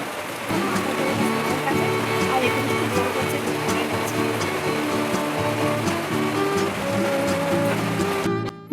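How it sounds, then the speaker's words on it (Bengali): Heavy rain falls outside a house as a continuous, dense patter, with a steady droning tonal sound layered over it for most of the stretch. "এখন বাইরে পড়ছে খুব বৃষ্টি"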